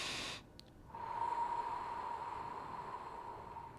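Slow exhale in a two-tone breathing exercise, voiced on a low steady hum under breathy airflow, close and quiet, sustained for about three seconds after a short silence.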